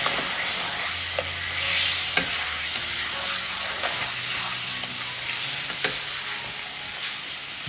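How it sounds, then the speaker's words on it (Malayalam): Dates paste being stirred into ghee and milk in a pan over a low flame, a steady soft sizzle with repeated scraping strokes of the spoon, close and continuous, with no talking. "ഫ്ലെയിം കുറച്ച് വെച്ചിട്ട് ഒന്ന് ഇളക്കി കൊടുക്കാം."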